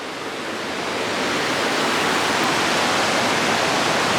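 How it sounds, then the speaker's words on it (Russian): A mountain river in a canyon rushes toward a waterfall, giving a steady, loud broadband roar of churning water that builds slightly at the start and then holds constant, with no voices. "Это вот эта река, которая потом переходит в водопад."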